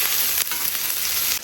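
Squid skewers frying hard in a pan with Lao Gan Ma chili sauce, a loud, steady close-up sizzle and crackle running throughout with no voices.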